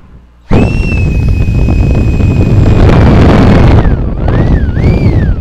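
A Soarfly cordless blower kicks on at full power with a loud, sudden whoosh and a high whining motor tone, running steadily before the pitch dips and recovers as the speed shifts.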